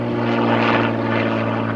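A propeller airplane drones steadily overhead above a wilderness lake, a loud, continuous engine hum with no voices.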